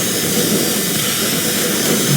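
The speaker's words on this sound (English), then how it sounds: "Jet fighters in the zone." Jet fighters in the sci-fi tower defense game X-Morph: Defense give a loud, steady roar of engine noise that fills the whole brief moment. No one speaks.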